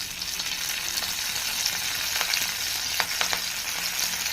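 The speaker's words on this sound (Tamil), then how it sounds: "கடுகு நல்லா பொரிஞ்சு வந்ததும் கருவேப்பிலையும் கொஞ்சம் கொத்தமல்லியும் சேர்த்துட்டேன்" Mustard seeds, curry leaves and coriander fry in hot oil with a steady, dense sizzle and a few faint crackles and pops, close up with no talking.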